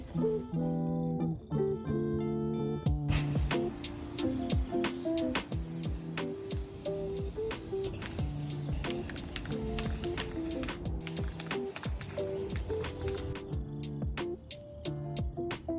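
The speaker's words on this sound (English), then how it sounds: "I am loving this red spray paint." A long hiss of red spray paint runs for several seconds amid sharp clicks and rattles, with soft music playing underneath.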